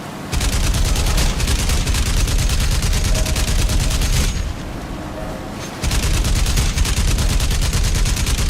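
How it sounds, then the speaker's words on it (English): Loud, dense video game gunfire rattles almost nonstop with heavy booms mixed in, dropping briefly to a quieter rumble midway before the rapid shots resume at full force. "Bombs everywhere."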